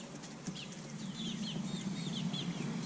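Six-week-old chicks, pets kept in a brooder, give soft repeated clucks and chirps at close range over a steady low hum.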